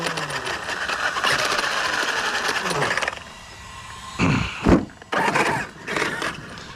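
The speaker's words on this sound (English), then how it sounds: "Sounds like the rear diff is shot." REDCAT Vigilante RC car with an 800 kV motor and a blown rear differential, whining and grinding loudly for a few seconds, then cutting out into short revving bursts with gaps between them.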